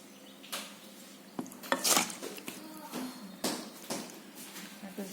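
A spoon scoops curry from a pot and onto a plate of rice, giving a handful of sharp metallic clinks and scrapes spread irregularly over a few seconds, quiet and close, with no talking.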